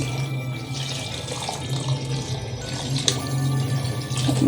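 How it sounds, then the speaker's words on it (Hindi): Water pours steadily into a pot of chicken haleem in a home kitchen, a continuous close splashing stream with no speech. "ये मैंने इसमें अब पानी तकरीबन 3 kg जितना मैंने इसमें पानी ऐड कर दिया है"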